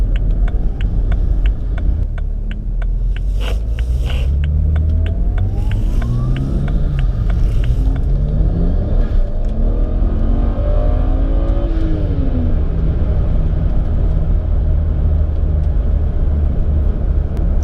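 An automatic BMW 335i E90 with an Alpina B3 transmission flash tune accelerates hard in sport mode on a warm day. The engine note rises steadily and loudly through the revs, with a brief dip where traction control cuts power.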